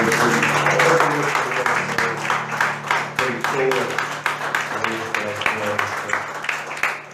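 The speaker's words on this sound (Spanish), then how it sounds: "Así le damos un aplauso al Señor." A church congregation claps steadily, with scattered individual claps and voices mixed in, fairly loud throughout.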